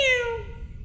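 A single drawn-out meow, close and fairly loud, that falls in pitch and fades within a second, voiced by a person imitating a cat in a junkyard while inspecting a Kohler engine.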